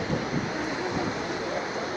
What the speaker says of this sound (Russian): Какое огромное количество воды выливается.